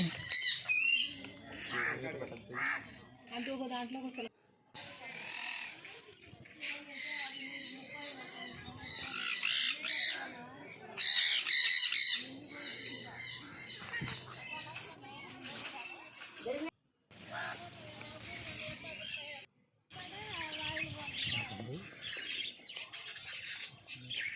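Ordinary parrots at Tirupati zoo squawking and chirping in shrill, repeated bursts, fairly close, with children's voices and chatter mixed in among the calls.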